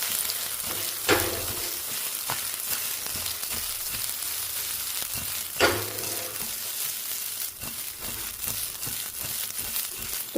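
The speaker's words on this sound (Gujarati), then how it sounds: "એની અંદર આપણે રાઈ નાખી દઈશું, જીરું નાખી દઈશું અને ત્યાર પછી અહીંયા તૈયાર કરેલા મેથીના પીસીસ નાખી દઈશું" Mustard seeds, cumin and fenugreek pieces crackle and sizzle in a small amount of hot oil, a close, steady fry punctuated by a couple of sharp stirring scrapes.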